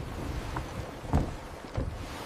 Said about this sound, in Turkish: Güvertede çalışan denizciler rüzgarın sesini dinliyor.